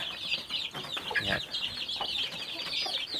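Chickens clucking and chirping on a farm where chicks are raised, a busy overlapping chorus of short clucks and high peeps at moderate distance, with no clear talk.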